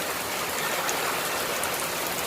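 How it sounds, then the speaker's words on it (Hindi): Heavy rain pours down outdoors at a family picnic spot, a dense, steady hiss that fills the whole clip without letting up, close and even, with no voices. "बहुत तेज बारिश आई है"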